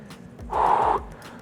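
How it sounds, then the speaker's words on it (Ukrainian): A single forceful breath, a sharp gasp-like exhale lasting about half a second, taken during a bicycle-crunch ab workout in a fitness session, close and fairly loud with no talk over it. "дихаю активно, це допомагає мені сфокусуватися на м'язах живота"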